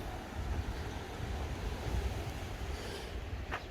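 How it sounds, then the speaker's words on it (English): Mediterranean Sea waves wash steadily against the shore, a continuous broadband surf rush with wind buffeting the microphone throughout and a brief brighter splash near the end. "let's listen to the waves. This is the Mediterranean Sea."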